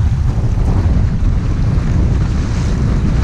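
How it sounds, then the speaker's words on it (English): Strong wind gusts at about 20 miles an hour buffet the microphone on a kayak out on open water, a loud, constant low roar with water noise mixed in and no talking. "the wind is just all of a sudden out of nowhere started blowing like 20 miles"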